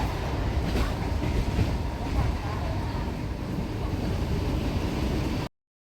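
A crowded Sunday passenger train rolls steadily along, producing a loud, continuous rumble and rattle from inside the carriage with wind buffeting, until the sound cuts off abruptly near the end.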